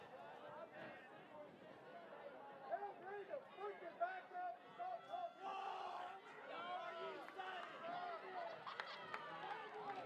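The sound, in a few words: football fans shouting in the stands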